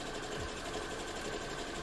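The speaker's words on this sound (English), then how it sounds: "you shouldn't sew over your sewing needles because it's bad for your sewing machine needle" A sewing machine runs at a steady, fast, even chatter, stitching straight over the pins holding the fabric while a cosplay costume is sewn, close and continuous with no talk.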